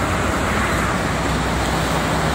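Dense traffic of many cars and heavy trucks on the Jakarta–Cikampek toll road in the afternoon, a loud, constant roar of tyres and engines with no breaks.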